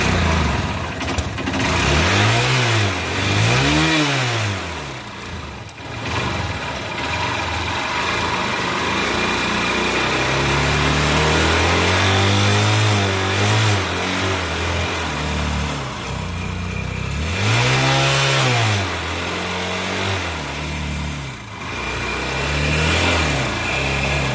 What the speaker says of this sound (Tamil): ஸ்டார்ட் ஆகிடுச்சு. நல்லா ரேஸ் ஆகணும்.